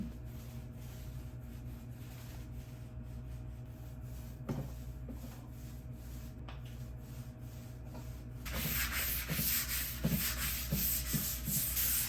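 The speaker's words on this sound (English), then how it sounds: "The bottom base was sanded down with 120 grit followed by 220" Steady abrasive rubbing of 120 then 220 grit sandpaper on a wooden dresser base, continuous and close, growing louder and rougher toward the end.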